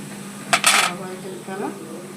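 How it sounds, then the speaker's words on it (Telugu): Mustard seeds and cumin dropped into hot oil in a pan for a Dondakaya curry, heard as a brief metallic clatter and rattle near the start, then a soft low sizzle and faint pan sounds. "కొంచెం ఆయిల్ హీట్ అయిన తర్వాత ఆవాలు జీలకర్ర"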